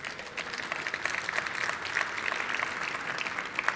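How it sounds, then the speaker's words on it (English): An audience applauds a discussion panel at a 5G cities event, a dense, even patter of clapping that holds steady throughout without voices. "Let's give them a round of applause."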